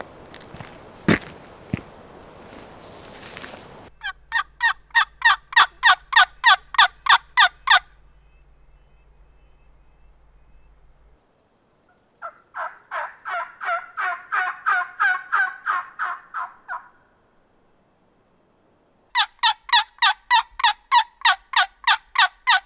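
Wild turkeys gobbling in open country on a spring hunting morning, with three separate long rattling bursts of gobbles separated by quiet gaps, loud and fairly close, with no talking.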